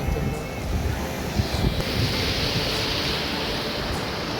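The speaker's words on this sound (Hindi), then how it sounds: "और यहाँ पानी की बहने की इतनी अच्छी आवाज़ है" River water rushing near a footbridge on a mountain path, a steady broad wash of flowing water with wind noise on the microphone, loud and close throughout while a person talks over it.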